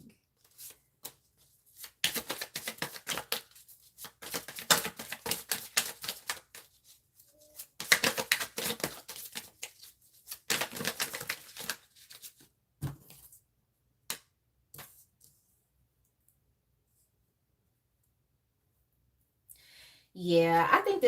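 Tarot cards being shuffled in repeated quick riffling bursts, close and crisp, spread across about fifteen seconds with short pauses between rounds, followed by a quiet stretch before a voice begins at the end.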